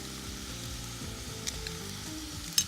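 Onions sizzling in roasted garlic oil in a pan, a steady close frying crackle throughout with a couple of small stirring knocks near the end, no talking.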